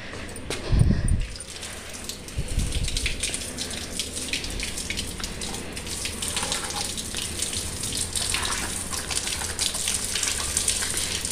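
Water gushing steadily from a hose pipe during household washing, a continuous close splashing rush with a couple of louder thumps near the start.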